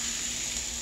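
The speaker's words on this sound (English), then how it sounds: "And we're going to cover that up and let that continue to simmer." Pork tenderloin with Italian seasoning and paprika simmering in a pan gives a steady, soft, close sizzle and bubbling hiss with no talking.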